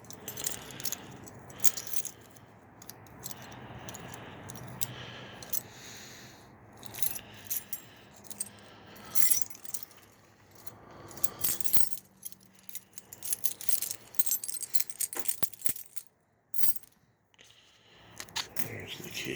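Keys jangle and clink in bursts during a one-handed search inside an old Dodge wagon's fuel tank, close and irregular, with brief metallic rattles and scrapes and some faint talk in the background.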